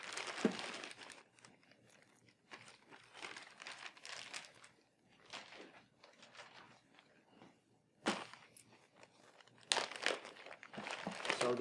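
A plastic bag being opened during the unboxing of block storage hardware, crinkling and rustling close up in several loud bursts separated by quieter handling, with no voices.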